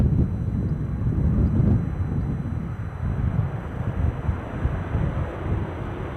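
A Saab 340 turboprop airliner at Aberdeen Airport gives a steady, loud low rumble that holds throughout, with wind buffeting the microphone and no talk.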